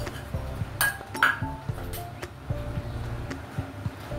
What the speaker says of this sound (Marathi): आता ह्यावर एक चाळणी ठेवूया